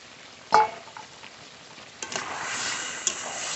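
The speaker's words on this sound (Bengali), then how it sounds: "আলু আর মাংস আর একটু নেড়ে নেব" Meat and potatoes frying in a pan while being stirred, a sharp clank of a utensil, then soft sizzling that rises, with scattered scraping and tapping.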